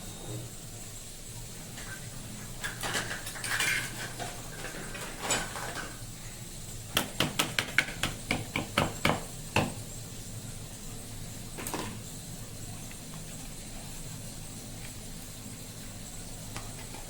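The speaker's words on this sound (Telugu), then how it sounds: "కొంచెం చిలికితే కొంచెం బాగుంటుందండి. అలా చిలకరించండి." Yogurt whisked in a bowl for raita, heard as scattered scraping and clinking strokes that gather into a quick burst of rapid taps in the middle, fairly quiet against a steady room hiss, with no talking.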